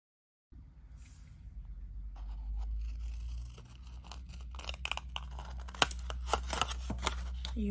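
Paper for a handmade mini album is cut, close and quiet, with crisp snipping and crunching slices that come in a quickening series of sharp clicks after a low hum starts.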